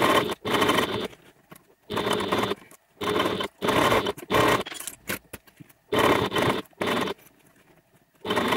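Sewing machine stitching a crossbody bag, loud close bursts of rapid mechanical whirring stitches, about six runs of roughly a second each separated by short silent pauses.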